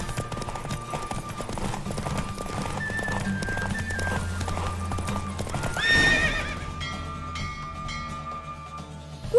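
Horse galloping at speed during a race in The Witcher 3: Wild Hunt, steady rapid clip-clop of hooves with a whinny and a swelling rush near the end, set against a game music bed.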